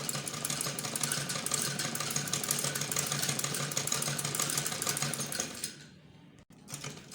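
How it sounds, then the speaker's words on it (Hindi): Hand-operated sewing machine stitching a seam along a ladies' kameez in a training centre, a steady, close, rapid mechanical whirring and clatter that runs evenly, then stops abruptly near the end, leaving a brief quiet tail. "गुलाई में आपने हाथ से मशीन चलानी है, ऐसे आराम आराम से।"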